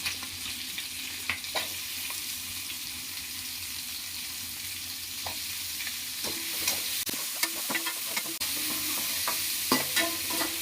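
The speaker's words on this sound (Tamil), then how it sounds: "இப்போ வெங்காயம் நல்லா வதங்கட்டும்." Crushed garlic and small shallots frying in a pan, a steady bright sizzle with intermittent stirring scrapes and clinks, close and continuous.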